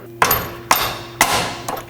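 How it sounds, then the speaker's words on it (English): Four sharp hammer blows driving a control arm bolt through a bushing on a 2007-2010 Chrysler Sebring front suspension, evenly spaced metallic thwacks with short ringing decay, no talk. "with a hammer or a rubber mallet, drive the bolt through"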